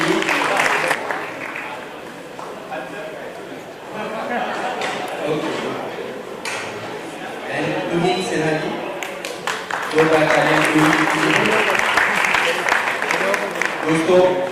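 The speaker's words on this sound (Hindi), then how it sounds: "जोरदार तालियां हरीश जी।" Audience applause for a panelist being introduced at a Hindi-language book release and panel event, a broad sustained wash of clapping with crowd noise and a voice over it, swelling louder in the final seconds.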